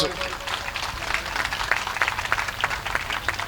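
Audience at a religious gathering claps in a loud, steady burst of applause, with rapid overlapping claps filling the space while voices carry on underneath.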